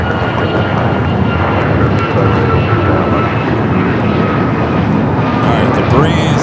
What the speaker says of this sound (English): Number 2 for arrival on the north side, Japan Airlines flight 62, coming from Tokyo Narita, the second Japan Airlines flight.